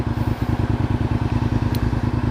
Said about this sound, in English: There's another bike right there.